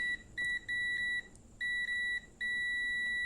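A multimeter gives short high electronic beeps, then longer steady ones, while it tests continuity on a diode bridge in a damaged laptop charger. The beeps are close and clear over a quiet background.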